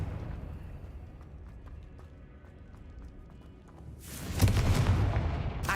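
A Confringo blasting spell explodes in Hogwarts Legacy, a loud bursting blast arriving suddenly after a stretch of quieter game ambience and faint footstep-like taps.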